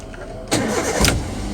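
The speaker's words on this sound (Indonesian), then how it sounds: "Jadi memberikan arus dari baterai ke motor starter lalu menghidupkan mesin." A manual car's engine cranks on its starter motor and catches, a short loud whirr that turns into a steady idle, heard close and alone.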